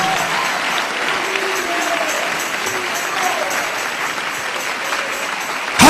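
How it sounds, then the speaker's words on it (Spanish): Church congregation in a Spanish-language worship service applauding in praise, sustained crowd clapping with voices calling out underneath, fairly loud and close. "Dale ese aplauso de alabanza y de victoria a Jesús de Nazaret."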